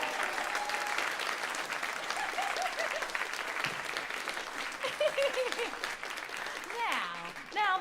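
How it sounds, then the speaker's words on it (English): Applause from a live audience at a staged radio-style script performance, a moderate continuous patter of clapping mixed with murmured voices and scattered tonal sounds. "we should also applaud."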